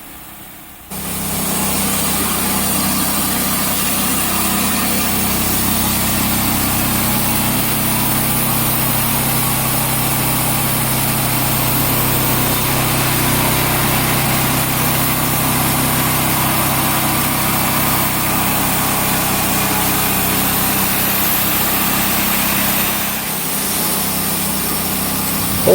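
A sawmill engine runs steadily while logs are cut into flitches, a continuous close droning hum lasting over twenty seconds with a brief dip near the end and no talking.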